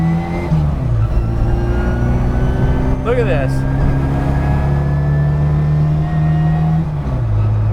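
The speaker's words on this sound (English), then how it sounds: "I do like that belt-driven supercharger." A supercharged Mini Cooper with a 1310cc engine and belt-driven supercharger, heard from inside as a steady engine drone with a brief rising whine and shift, while someone speaks briefly.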